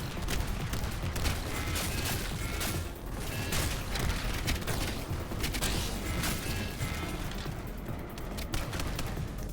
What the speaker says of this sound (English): I was going to try the burst fire gun rather than my rifle